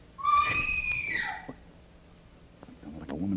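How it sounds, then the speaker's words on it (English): A woman's high, piercing scream rises and bends downward over about a second, loud and near, followed by quiet and then faint voices and rustling. "That sounded like a woman scream."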